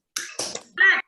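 Students in an elementary school classroom perform a rhythmic clapping chant, with quick sharp claps in short bursts alongside a voice, close and fairly loud.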